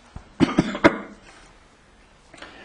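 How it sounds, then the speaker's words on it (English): A short burst of three or four harsh coughs in quick succession, close by, followed by quiet and a faint breath near the end. "I've got a cough."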